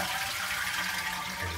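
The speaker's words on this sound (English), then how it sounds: "And we're going to flush the toilet." A toilet being flushed during a repair after its water supply valve has been shut off gives a strong, steady rushing swirl of draining water, close and continuous, with no voices.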